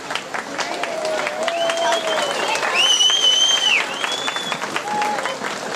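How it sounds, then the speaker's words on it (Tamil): Steady audience applause fills the hall at a Tamil puberty function music programme, continuous dense clapping throughout, with a few voices and some whistling tones over it. "நல்லா கைதட்டுங்க."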